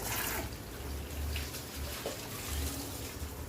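Tap water runs steadily into a bowl while chicken thighs are being prepped, a continuous splashing gush at moderate level with small dips in flow, no voices.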